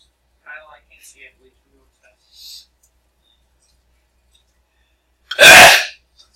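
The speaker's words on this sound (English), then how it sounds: "Sneeze?" A single sharp, loud sneeze bursts out near the end after a few faint clicks in a quiet room.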